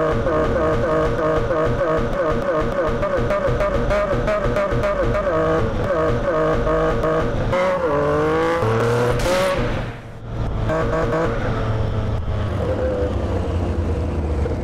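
A Yamaha MT-09 motorcycle engine revs hard while riding, loud and close, with rising and falling pitch through gear changes, a brief dip near the end before pulling again.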